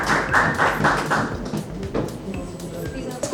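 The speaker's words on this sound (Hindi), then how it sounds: "प्लीज जोरदार तालियां इन सबके लिए।" Clapping for the artists on stage at a press conference for the Haryanvi film DJ Wale Babu, scattered taps and claps mixed into crowd noise and voices, with louder hand claps toward the end.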